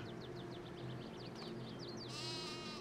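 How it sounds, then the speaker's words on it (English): Sheep in the video game Farming Simulator 22 bleat in a quick run of short, faint calls over a soft steady game hum, ending in a longer, brighter bleat. "there are some sheep downstairs here, and apparently they can jump"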